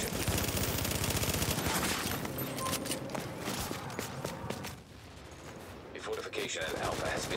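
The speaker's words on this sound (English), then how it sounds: "Hostiles are firing on our fortification." Dense video-game gunfire erupts in rapid automatic bursts and scattered single shots during a battle over a fortified position, loud and near, with a game announcer voice speaking over it.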